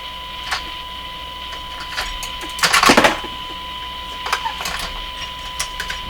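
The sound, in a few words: metal screwdriver adjusting alignment screws on Zenith 6J05 tube radio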